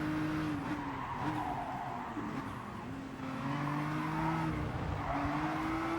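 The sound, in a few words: race car hitting the curb and skidding in Gran Turismo Sport, a video game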